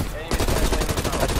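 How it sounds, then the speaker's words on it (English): A sniper rifle fires in Call of Duty Cold War, one sharp blast followed by a dense burst of loud rapid gunfire that fills the short moment with no talking. "That's the sniper."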